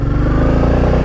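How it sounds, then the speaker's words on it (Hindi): A motorcycle engine hums steadily while riding, recorded close up with a loud, continuous low drone and wind rumble. "तो दोस्तों चलाते हैं अपनी बाइक को"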